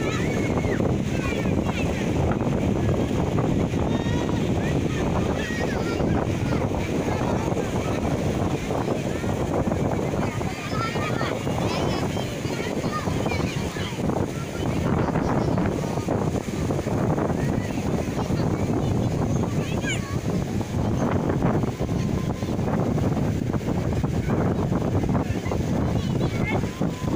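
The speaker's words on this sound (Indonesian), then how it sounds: "Ombak di Pantai Telango itu besar, tapi masih aman untuk para pengunjung." Big waves breaking at Tlangoh beach in Tanjung Bumi, Madura, a steady loud roar of surf mixed with wind buffeting the microphone, continuous throughout without a break.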